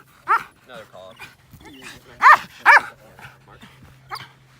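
Working dog barking in a few sharp, loud bursts during call-off bite training, with a handler talking between barks and a steady low hum underneath.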